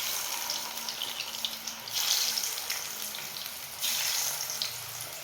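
Bottle gourd balls dropped into hot oil over a medium flame, a continuous bright sizzle and crackle that swells in two louder bursts, close by with no voices.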